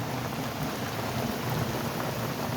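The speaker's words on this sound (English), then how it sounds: "gets a little bit rainy out east" Rain falls steadily outside a waterproof camper, a dense, even patter on the roof and walls with no voices over it.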